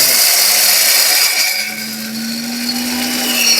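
A commercial dry spice grinder runs at full power with a loud, steady, high-pitched whirring roar and a low motor hum. The pitch dips slightly midway, then holds constant throughout.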